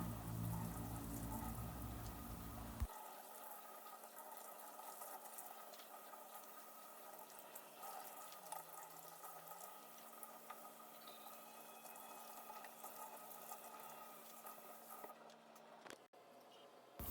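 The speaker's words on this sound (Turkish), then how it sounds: "kuru yufkalarımı şöyle musluk altında her iki tarafını da ıslatıyorum" Tap water pours in a steady hiss over dry yufka dough sheets being wetted on both sides, loud at first and then softer and continuous, with a brief change in the flow near the end.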